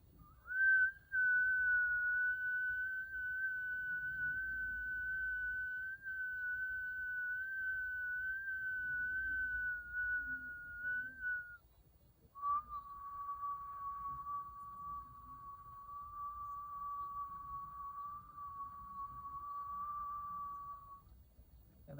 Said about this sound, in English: actively listening to the sound of the whistle